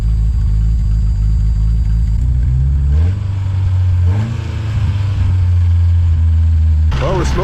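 A Dodge Charger 2.2 engine runs loud and close, a steady low idle that rises in pitch with a few revs partway through, with no exhaust leaks and no speech over it.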